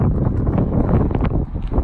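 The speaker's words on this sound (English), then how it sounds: "I'm sorry, it's kind of windy." Strong wind gusting outdoors beside an off-road tandem axle trailer, buffeting the microphone with a loud, rough, continuous rumble.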